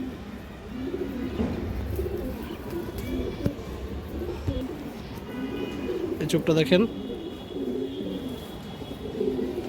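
Pigeons on a breeding farm cooing in repeated low, rolling phrases, close and moderately loud, with someone talking over them and a brief flutter or clatter midway.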